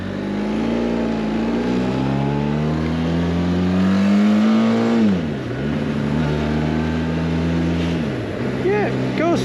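A Benelli TRK502X motorcycle engine runs under way on a very cold day, a loud steady droning hum that rises in pitch, dips briefly at a gear change, then climbs again.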